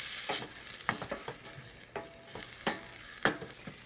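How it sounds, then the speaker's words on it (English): Vegetables for a sweet potato shepherd's pie are stirred in a pan over high heat, a soft steady sizzle broken by repeated scraping stirs of a utensil against the pan, close and quiet, no voices. "I'm going to stir this often as it's over pretty high heat."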